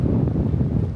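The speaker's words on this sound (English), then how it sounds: "It's pretty windy today." Heavy wind buffets the microphone at Amelia Island, Florida, amid nearby storms, a loud low rumble with gusty fluctuations and no other clear sounds.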